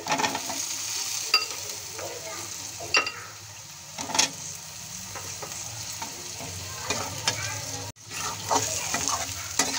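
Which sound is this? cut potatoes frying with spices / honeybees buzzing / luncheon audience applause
cut potatoes frying with spices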